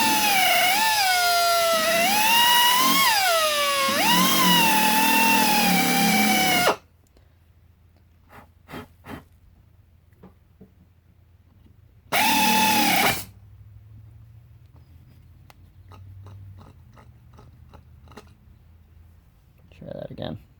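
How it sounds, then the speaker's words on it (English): Drill bit boring a hole in cast iron on a bull gear under repair, a loud grinding whine with rising pitch sweeps for about seven seconds, then a second short burst later, with quiet workshop clicks between. "So I'm going to drill that one out first."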